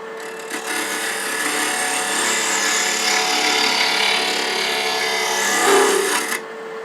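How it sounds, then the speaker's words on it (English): Wood lathe spinning at about 2,000 rpm while a negative rake scraper shapes a wooden ring, a steady rasping scrape over the motor hum that swells and fades as the tool is applied, then stops abruptly. "I'm going to use a negative rake scraper."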